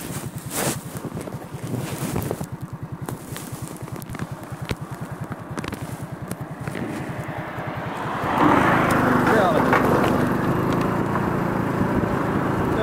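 A motorbike rides through streets in Antalya, with its engine droning under heavy wind buffeting the microphone, and the rush of wind grows louder toward the end.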